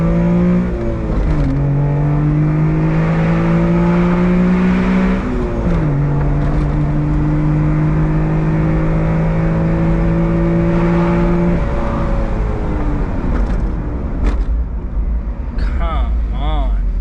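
A Honda Beat kei car with individual throttle bodies revs its small engine repeatedly, the loud intake note rising and falling in long sweeps before settling back, close and dominant throughout.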